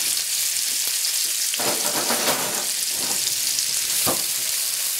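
Onion frying in a little hot oil with curry leaves and mustard seeds, a steady close sizzle with brief louder bursts of crackle and no talking.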